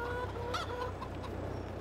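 Chickens cluck in Farming Simulator 22, a steady flurry of short calls over a continuous low hum of farm ambience.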